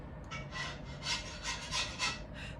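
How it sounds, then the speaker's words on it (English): Rhythmic rasping scrubs on a cast iron pan, rough strokes repeating steadily at moderate distance, gritty and abrasive with no talking. "Sorry about the noise in the background, but Tom is cleaning the cast iron, so it is what it is."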